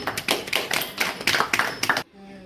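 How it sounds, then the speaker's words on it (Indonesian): Students clap in a classroom, a brisk scattered round of hand claps lasting about two seconds before cutting off abruptly to near silence. "Berikan aplaus untuk kalian semua"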